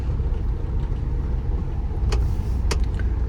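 A Maruti Swift car rolls along in second gear as the clutch is let out slowly, a steady low engine drone with a couple of faint brief squeaks over it.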